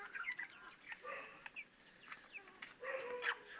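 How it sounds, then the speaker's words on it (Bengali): Chickens sick with a cold make short, faint cough-like clucks and sneezes, scattered at irregular moments across a quiet background. "দেখছেন মাথা ঝাঁকি দিয়ে কাশবে"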